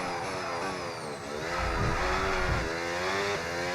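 An F1 car's engine in the F1 26 racing game revs loudly and steadily as it pulls away from the pits at Monaco, the high whine climbing and holding close up.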